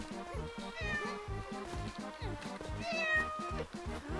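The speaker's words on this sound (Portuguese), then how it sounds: "que tem um gato ali?" A cat in the video game Hayfever meows repeatedly in short, clear calls over a rhythmic, plucky game music loop.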